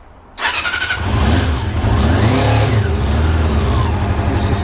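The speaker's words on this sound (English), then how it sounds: "She's cold and she's not firing on all cylinders because one of my spark plugs is dirty" A cold Honda CB400SF motorcycle with a dirty spark plug starts suddenly and settles into a loud, rough, uneven idle as it misfires, close by.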